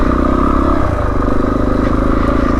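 A Suzuki DRZ400E motorcycle rides off-road along a rutted green lane, its engine a loud, steady, throbbing thump close by, with faint rattles and scrapes mixed in.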